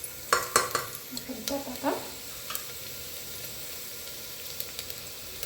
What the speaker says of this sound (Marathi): कांदा थोडासा आता गुलाबी परतत आलेला आहे